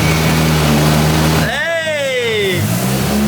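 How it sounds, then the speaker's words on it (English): Engine of a rear-wheel-drive converted Mitsubishi Lancer runs loudly, then revs up with a rising and falling pitch as the rear wheels spin, a close steady drone before and after. "we were ready to spin the rear wheels for the first time"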